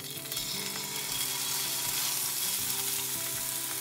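Lamb sears in an extremely hot pan slicked with canola or grapeseed oil, giving a loud, steady, dense sizzle that holds throughout with no voices.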